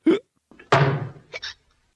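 A single comic hiccup from a drunken cartoon cat, voiced by a human imitating the sound: short vocal gulps and squeaks around one sharp, louder hiccup, close and alone.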